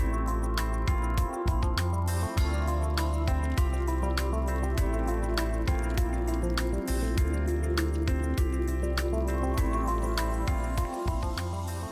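Oil poured over stuffed suran (elephant foot yam) cutlets in a pan for shallow frying: a dense, steady sizzle with close wet crackles and pops throughout, continuous and fairly loud.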